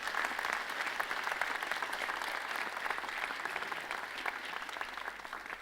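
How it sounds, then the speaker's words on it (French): Applause rises from an audience at a mayor's New Year address, honouring a performance: a steady, moderately distant wash of many hands clapping that continues evenly for several seconds without talk. "On peut peut-être encore les applaudir pour cette prestation."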